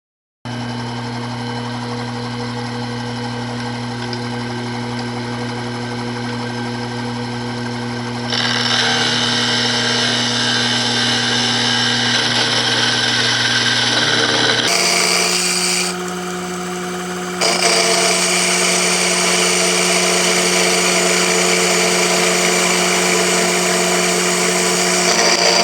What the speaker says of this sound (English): So we can pick up the center hole and then we'll start milling away.